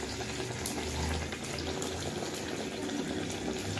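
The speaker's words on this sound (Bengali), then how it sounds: "মাপে মাপে জল দিতে হবে" Water being poured into dough while making jaggery pitha, a fried sweet: a steady, close splashing trickle that runs throughout at moderate volume with no voices.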